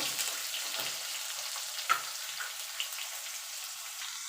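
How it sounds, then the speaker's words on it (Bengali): Potatoes frying in hot oil with dried red chillies and five-spice seasoning in a pan, a steady close sizzle and crackle with a few sharp pops and light stirring, no talk. "আলুটা একটু লাল লাল করে ভেজে নেব।"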